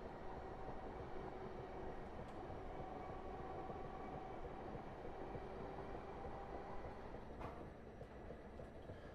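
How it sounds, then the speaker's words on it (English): Simulated train coasting along the Brighton main line in South London, a steady low rumble and rolling drone with a faint click or two, and no talk. "I'm just going to go ahead and let the train coast"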